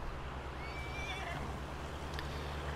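Horses in Farming Simulator 19 give a clear neigh over a steady low hum, one whinny rising and falling in the middle of a quiet stretch, with no voices.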